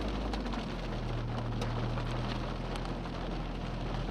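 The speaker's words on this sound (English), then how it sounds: "Plus I started getting some hail." Hail falls during a tornado-producing storm near Campo, Colorado, as a steady, dense, hissing patter with scattered sharper impacts and a low rumble underneath, continuous throughout.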